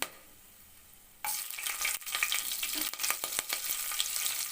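Ingredients hit hot oil for egg biryani, starting with a quiet hum and then bursting into a loud, steady sizzle with occasional stirring clicks, close up and without talk.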